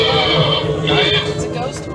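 Horse whinnying near a group of people in Virginia City, a loud neigh rising and falling over about two seconds with voices around it.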